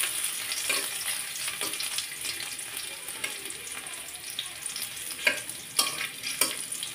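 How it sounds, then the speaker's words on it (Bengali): Chopped onion frying in cooking oil on a stovetop, a steady quiet sizzle with occasional stirring scrapes and a few sharp clicks toward the end. "পেঁয়াজ কুচিটা একটু ভাজি করে নেব তেলে।"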